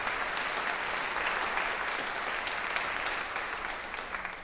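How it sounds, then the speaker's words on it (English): Loud, sustained applause from a county jazz festival audience for the band, dense clapping throughout that eases slightly toward the end. "Let's give another round of applause for Mr."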